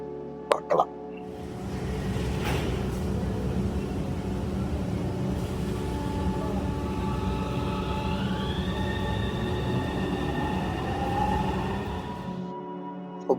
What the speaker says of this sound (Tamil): இப்போ பூர்ஜ் கலிஃபா மெட்ரோவில் இறங்கி